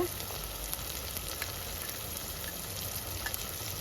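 Ground masala paste frying in a pan for a small-fish curry, giving a continuous soft sizzle with scattered light pops at a low, even level and no talking.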